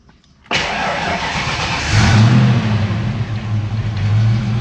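A Ford Mustang Foxbody with a stock motor cranks briefly and fires, catching into a loud, steady idle with a deep rumble, heard up close with no talking.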